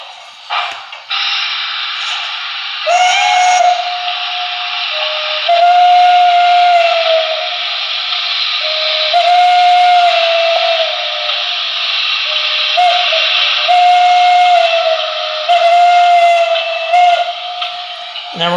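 A Broadway Limited HO scale Pennsylvania I1sa model steam locomotive with Paragon 4 sound sounds its single-chime Banshee whistle: a long, loud, shrill steam whistle blast with breathy hiss, swelling and sustained across several repeated notes.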